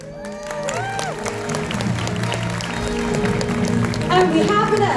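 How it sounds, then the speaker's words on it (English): At the Miss Grand International 2023 grand finale pageant, a large crowd applauds and cheers under a loud announcer and background music, the clapping a broad steady roar that swells toward the end. "A big round of applause for Miss Grand COO, Miss Sarissa."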